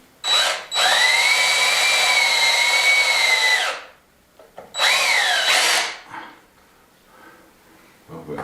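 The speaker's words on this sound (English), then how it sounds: "I'm going to pilot this. I'm going to get one screw in the top" Power drill whining steadily through a pilot hole in a wooden door, then a shorter burst driving a screw in, loud and close with a pause between.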